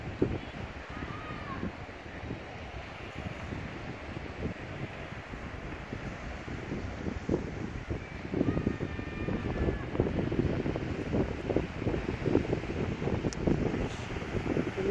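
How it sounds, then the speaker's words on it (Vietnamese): Ocean waves and steady wind at a beach in front of a row of houses, a continuous broadband roar of surf and wind buffeting the microphone that grows louder toward the end, with no talking. "Đây cảnh biển."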